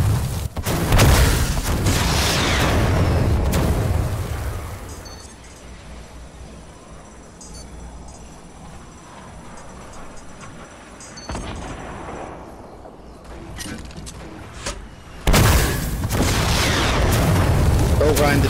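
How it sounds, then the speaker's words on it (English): Grenade launcher blasts in a multiplayer video game: heavy booming explosions at the start and again near the end, with quieter gunfire and game noise between and people talking over it. "Oh, Ryan, they're shooting you with a grenade launcher."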